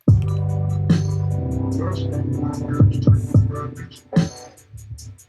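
A punchy, dense drum pattern with parallel compression, heavy low thumps and sharp hits, sustained and full, played alone.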